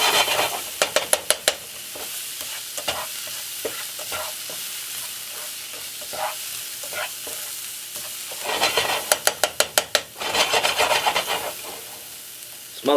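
A spinach filling sizzles in a pan while a utensil scrapes and stirs it, with bursts of rapid scraping strokes over a continuous frying hiss.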